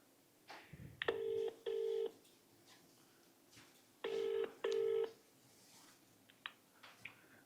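A telephone ringing during a live call, two pairs of electronic ring bursts with a gap between them, clear and alone over faint background noise.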